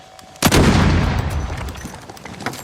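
A loud, booming burst of gunfire in a battle royale video game hits suddenly, then a dense rumbling roar that slowly fades over a couple of seconds.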